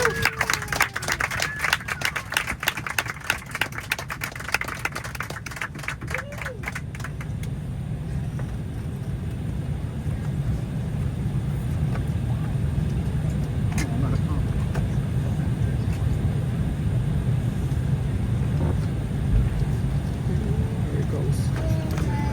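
A JetBlue Embraer E190 airliner during final pushback, heard from inside the cabin as a steady low engine and ground rumble that builds slightly, with faint rattles and some talking early on.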